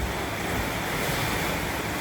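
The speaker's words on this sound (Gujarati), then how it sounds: "આ પતરામાં છે ને એટલો અવાજ આવે છે વરસાદનો" Heavy rain drums on a tin sheet roof over a room, a dense, loud, unbroken roar with no pauses or voices.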